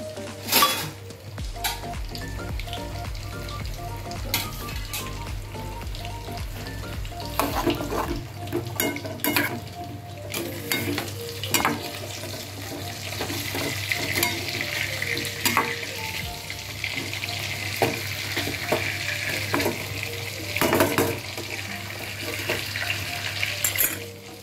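Hilsa fish frying in mustard oil in a pan, a steady close sizzle with occasional clinks and scrapes of a utensil against the pan, no talking.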